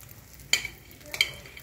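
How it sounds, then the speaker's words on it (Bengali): Ghee sizzling in a pan while cauliflower cooks: a soft frying hiss with two brief, brighter bursts, faint and close, with no talking. "আমি একটু ঘি দিচ্ছি এর মধ্যে,"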